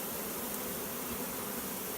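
A bee swarm moving into a box gives off a constant hissing drone of countless wings, even and unbroken, fairly close, with no one speaking.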